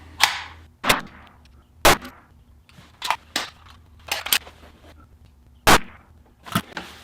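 6mm ARC gas-operated rifle firing on a long-range shooting range, about ten sharp shots at irregular intervals over several seconds, moderately close with a faint steady hum between them.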